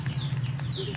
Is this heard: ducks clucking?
yes